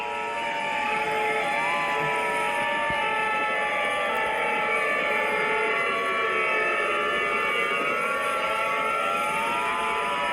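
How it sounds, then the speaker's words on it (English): Ambulance sirens in an animated emergency alert wail continuously and loudly, several overlapping tones sweeping up and down together without pause, with no voices over them. "So many ambulances going on."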